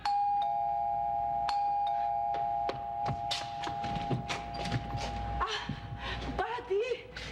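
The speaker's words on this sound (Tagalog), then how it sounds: "ready yung doorbell" A doorbell on a TV show set rings out with a clear, sustained chime near the start, followed by scattered soft thuds and knocks.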